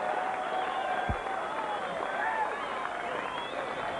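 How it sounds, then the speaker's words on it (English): A darts crowd applauds at a 1996 World Championship semi-final, steady clapping and cheering filling the hall with a dense, even wash. "Kevin Painter applauding, everybody applauding."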